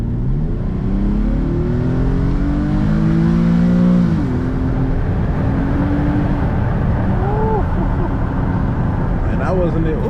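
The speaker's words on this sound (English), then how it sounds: "Go ahead, hop straight in that sports mode." Infiniti G37 AWD accelerating hard in sports mode, with engine pitch sweeping up through the gears, a brief drop at each shift, then further rising revs. Heard from inside the cabin, with voices talking over it.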